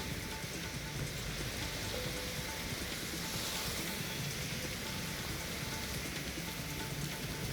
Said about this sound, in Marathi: सकाळपासूनच ठाण्यामध्ये आता पावसाचा जोर आपल्याला बघायला मिळतो